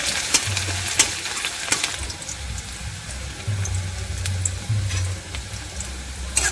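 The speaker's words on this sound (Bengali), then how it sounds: "পেঁয়াজটা বাদামি কালার করে ভেজে নেব" Raw onion fries in oil tempered with dried red chillies, a steady crackling sizzle with bursts of spatter and occasional stirring, close and continuous without any voices.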